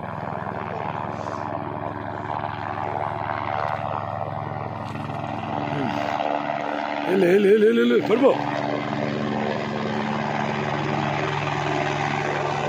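Helicopters starting up and flying at Kedarnath temple in the mountains, a steady rotor and engine drone in the background that swells midway while a person talks over it.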